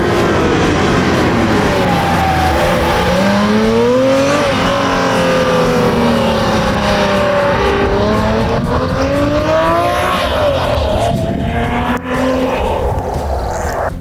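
A Porsche 996 911 GT3 MK1 Clubsport, a Manthey Racing car, drives hard along mountain roads, its engine note rising and falling through repeated gear changes as it accelerates, loud and close throughout with no talking.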